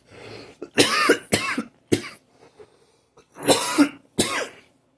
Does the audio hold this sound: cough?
yes